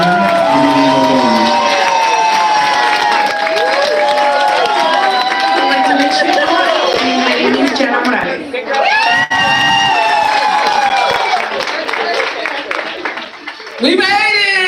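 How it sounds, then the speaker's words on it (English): A crowd at a graduation ceremony cheers for the graduates, a dense and loud wall of whoops, yells and high shouting that holds throughout with scattered voices mixed in. "I want everyone to give them a great cheer."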